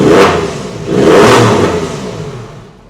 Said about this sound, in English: Revving Rodney. I bet that gets up and goes a bit, don't you? Doesn't it sound nice?